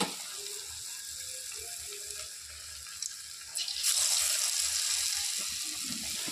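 Potol (pointed gourd) fritters hit very hot oil, a soft hiss swelling into a loud, steady broadband frying crackle partway through.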